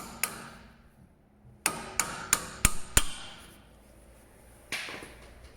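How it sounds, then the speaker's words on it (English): Hammer tapping on the old rear brake disc of a Vauxhall Corsa VXR to free it from the hub: a single knock, then a quick run of five sharp metallic strikes, and one more later, close and clear. "And a few taps on the old disc should release it."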